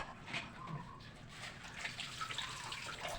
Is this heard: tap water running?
yes